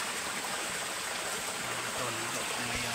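Water rushes steadily from a mountain waterfall into a deep, cold swimming pool, a continuous broadband roar from close by, with low murmurs of voices faintly beneath it.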